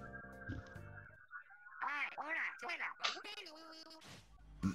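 A duck quacks in several loud, nasal bursts in quick succession, clear and close, with a short, faint voice in the background.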